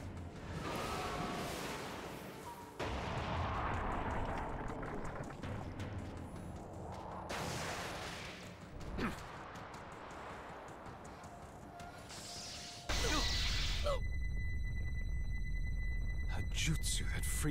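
A jutsu attack in the Naruto Storm Connections fighting game, with sweeping whooshes, impacts and a long bright ringing tone, shifting through several loud stages alongside character voices.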